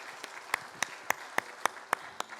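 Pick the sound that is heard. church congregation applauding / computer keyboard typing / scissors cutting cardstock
church congregation applauding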